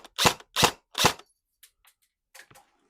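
Arcturus LWT airsoft rifle firing three sharp, evenly spaced shots close to the microphone, each followed by a short mechanical clack, then a few faint clicks and rattles of the gun's handling.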